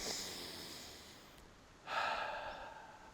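A deep chest-expansion breath, one long close inhale followed after a pause by a louder, breathy exhale, with no talk.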